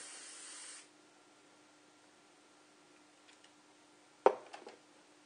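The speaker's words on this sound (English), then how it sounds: "And spray it." A short hiss of hairspray from an aerosol can, under a second long, then quiet broken by a few small clicks and a sharp knock.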